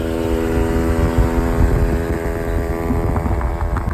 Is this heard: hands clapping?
no